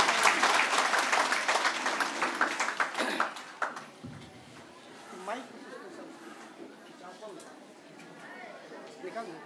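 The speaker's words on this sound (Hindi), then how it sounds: "एक जोरदार तालियों के साथ हम सभी लोग स्वागत करेंगे" Audience at a sari showroom inauguration applauds to welcome a guest; loud, dense clapping fills the first few seconds, then quickly dies away into scattered claps and murmuring voices.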